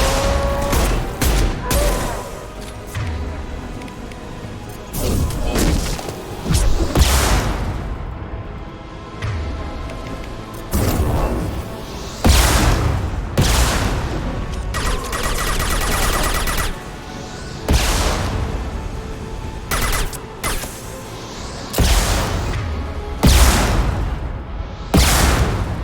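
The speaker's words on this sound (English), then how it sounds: "Enemy shot! Firing concussive shot!" Loud gunfire erupts in Mass Effect 2 as weapons fire repeatedly, together with a heavy concussive shot. Sharp booming blasts come in clusters with short gaps between them across the whole stretch.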